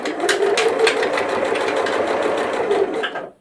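A sewing machine stitches a seam with dark thread on an XL wet-and-dry washbag, running in a fast, steady, close mechanical whir before slowing and stopping at the very end.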